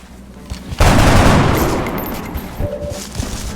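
Gunfire in the video game XCOM Enemy Within: a sudden loud burst of shots followed by a long decaying roar of sustained fire, then a few softer trailing reports.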